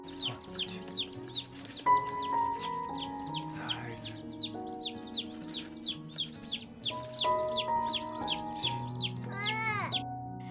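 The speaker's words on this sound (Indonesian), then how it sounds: "Jae-sik pun memberikan mainan baru kepada Yoon-hee, yaitu beberapa ekor anak ayam." Several baby chicks peep in quick, high, repeated chirps throughout, close and clear, over soft background music with sustained tones.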